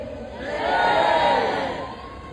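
A large protest crowd in Vancouver shouting together, a loud roar that swells to a peak and then eases off, dense and close, with no single voice standing out.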